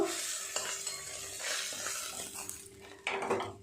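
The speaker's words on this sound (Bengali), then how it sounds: "এই মাছ দুটো ভাজা হয়ে গেল" Bhetki fish fries in oil in a pan with a steady sizzle, broken by clinks and scrapes of a utensil stirring and knocking against cookware, close up and without talking.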